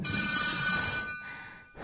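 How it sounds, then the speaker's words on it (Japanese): A telephone rings in a pixel-art horror video game, a bright continuous electronic bell that sounds loud and close, then cuts off into short pauses near the end, with no voices over it. "うるさ、電話。"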